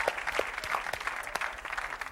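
Studio audience at a 1997 MTV game show clapping for the house band, a steady dense wash of hands with a few sharper individual claps standing out, filling the whole stretch without talk.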